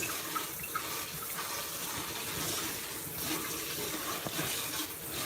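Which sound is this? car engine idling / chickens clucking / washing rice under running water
washing rice under running water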